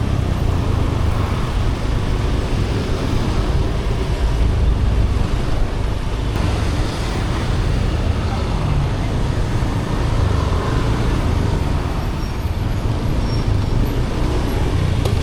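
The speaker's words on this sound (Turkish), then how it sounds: "Ama motorlarla bile feci trafik oluyor." Dense road traffic in Bali, heard from a rented motorbike, with a steady loud wash of engines and tyre noise running the whole time and no clear voices on top.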